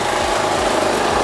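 A portable 2.3 kVA inverter generator runs at a steady, buzzing drone close by, loud and unbroken, with a faint low pulsing beneath it.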